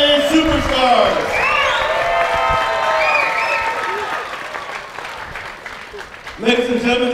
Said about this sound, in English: I want all the MMA fans in attendance to give yourselves a round of applause